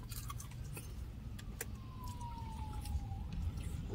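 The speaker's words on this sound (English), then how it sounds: "the sirens are going off and police chasing somebody" A distant police or ambulance siren wails faintly over steady background rumble, a single long tone gliding slowly downward.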